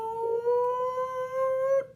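A dog gives a sustained whimpering howl, a single steady high tone held for about two seconds, close and clear with little else behind it.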